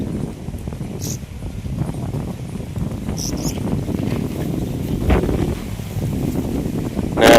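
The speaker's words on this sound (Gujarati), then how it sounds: "ને પવન વાયસો જોરદાર." Strong wind gusts across an open peanut field, a loud continuous roar and buffeting against the microphone, with brief rustling of flattened plants and no voices.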